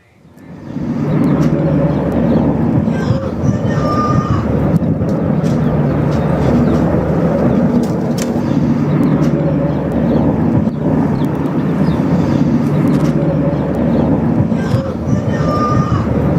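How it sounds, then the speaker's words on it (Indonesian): A loud, steady roar of a Black Hawk helicopter and a C-130 Hercules transport plane drones without pause, a heavy low rumble with a faint whine on top, close and constant. "Nampak helikopter Black Hawk dan pesawat Hercules C-130 milik Amerika Serikat tengah melakukan operasi pencarian"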